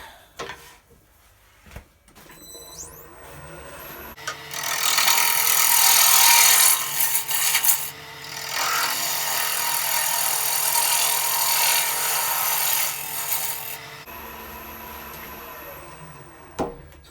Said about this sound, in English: let's whittle it down so we can fit it in the chuck to grab it and hollow it